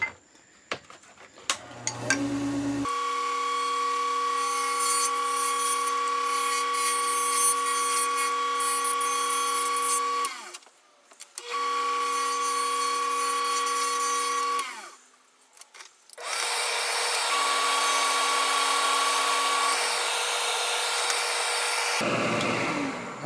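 Lathe cutting the post of a custom finial, three long steady whining passes with a sustained tone, separated by brief pauses, close and loud with no talk.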